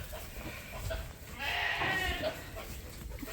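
Sheep, ewes running out of a pen on a farm, give a faint bleat or two amid low background noise and rustling, fairly distant and quiet.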